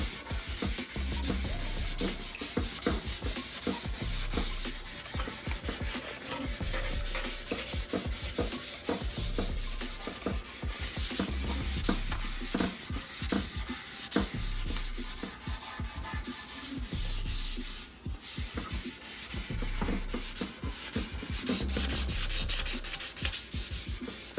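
A motorcycle gas tank is hand-sanded with 600 grit sandpaper on a kitchen table, a close, continuous run of quick rhythmic back-and-forth rubbing strokes with no talking.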